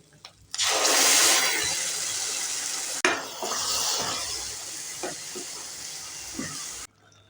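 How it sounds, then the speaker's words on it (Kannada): Water poured into a pan of frying ginger-garlic paste and ground masala for a North Indian matar paneer gravy: a loud, steady rushing splash lasting several seconds, then a softer sizzling bubble with a few faint taps before the sound cuts off. "ಸ್ವಲ್ಪ ನೀರು ಹಾಕ್ತಾಯಿದ್ದೀನಿ."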